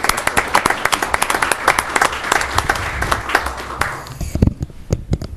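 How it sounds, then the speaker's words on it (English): A round of applause at a Falls Township supervisors' meeting: dense clapping from a seated audience, loud at first and then thinning into scattered individual claps before fading out. "So we can give him a round of applause."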